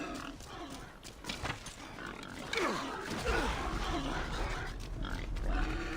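Pigs grunting and oinking in the Assassin's Creed Odyssey video game, several rough low grunts and squeals close by over game ambience, fairly quiet overall.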